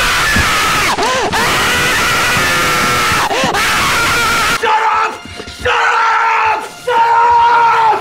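Loud, sustained screaming and yelling reacts to a frantic moment in a game, several drawn-out shrieks that break briefly near the end before resuming, close and harsh.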